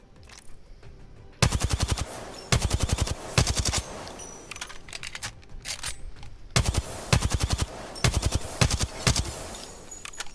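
Volt SMG from the video game Apex Legends fires in repeated fast full-auto bursts, sharp rapid cracks in tight rhythmic volleys separated by short pauses, loud and close with no talking.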